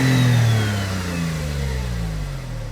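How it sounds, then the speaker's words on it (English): A Smart Roadster sports car engine revs up and then settles into a steady mid-pitched drone that slowly falls in pitch, heard loud and close with no talking. "But the engine sounds fine."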